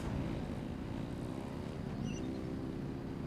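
A vehicle in Genshin Impact races at full throttle with a steady, loud, continuous engine-like roar and low rumble that holds level throughout.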